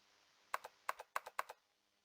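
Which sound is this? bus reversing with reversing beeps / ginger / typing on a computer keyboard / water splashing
typing on a computer keyboard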